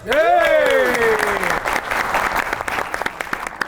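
A studio audience on a comedy show claps loudly to welcome a singer: dense, even applause, with a strong voice-like tone rising and falling over it at the start.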